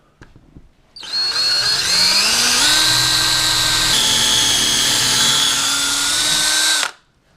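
A power drill with a dull bit boring lag bolt holes in wood for a TV wall mount, starting abruptly with a rising whine, then a loud, sustained grinding hum for about six seconds before stopping.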